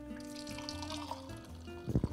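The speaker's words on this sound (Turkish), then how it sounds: "Beyaz şarap akıyor." White wine flowing from an opened tap on a fountain, a short steady liquid pour heard close, ending with a brief louder splash.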